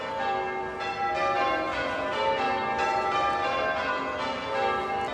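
Church bells ring out in Bath, several tuned bells in a steady, overlapping peal with rich sustained tones, clear and fairly loud throughout with no voices.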